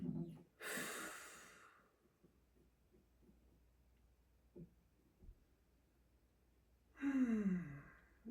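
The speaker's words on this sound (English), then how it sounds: "Enjoying some nice breathing here." A person takes slow, deep breaths during a gentle yoga class, a long audible exhale near the start and another drawn-out breath toward the end, close and breathy with quiet pauses between.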